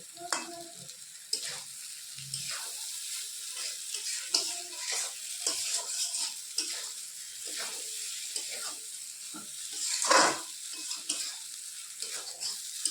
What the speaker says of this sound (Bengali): ভালো করে এটাকে আমি এখন কষিয়ে নিচ্ছি, কষিয়ে রান্না করে নিচ্ছি।